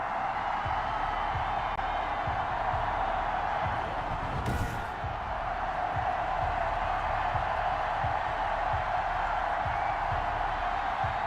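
A sold-out Heinz Field crowd in Madden 21, with the Steelers set to face the Ravens, gives a steady, dense stadium roar that fills the whole stretch, with one brief louder swell near the middle.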